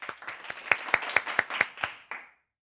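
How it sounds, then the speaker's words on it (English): A small group of children in an English class claps for themselves, about ten crisp, evenly spaced claps close by that stop abruptly, with no talking. "Clap for yourselves."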